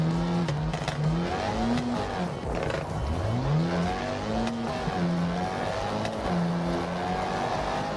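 A car engine in the racing game WRC 3, Rally Argentina, hums and rises in pitch through repeated gear changes, with brief tire squeals over a steady rumble.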